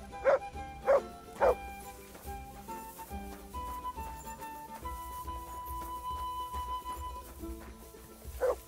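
A dog barks in Kingdom Come: Deliverance II, three sharp barks close together near the start and one more at the end, over a steady game music score.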